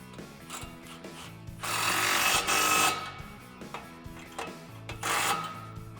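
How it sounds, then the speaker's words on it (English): A ratchet with a 15 socket tightens an exhaust clamp on a 2009-2018 Silverado or Sierra exhaust, giving rapid clicking bursts and louder hissing spells of tool noise, fairly close and with no talk. "Now we can tighten in our clamp with our 15 socket."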